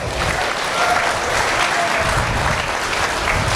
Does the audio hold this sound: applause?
yes